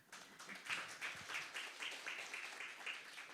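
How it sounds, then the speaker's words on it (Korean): An audience at a Korean business forum on inheritance and gift tax applauds, a quiet, fairly distant patter of many hands clapping steadily for a few seconds. "네, 환영의 박수 부탁드립니다."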